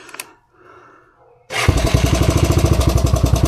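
A Givilo 22.4-inch bush trimmer with a small Honda gas engine, primed and choked: quiet handling noises, then the engine catches and runs loudly with a fast, steady, pulsing beat.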